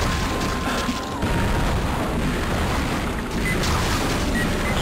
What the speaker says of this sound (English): Get the missile launcher out.